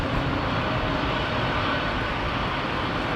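A Boeing 787 Dreamliner comes in to land at London Heathrow in strong gusty wind, giving a dense, continuous jet roar close by with heavy wind buffeting and no voices.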